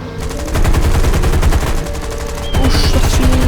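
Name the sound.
gunfire in the video game War Thunder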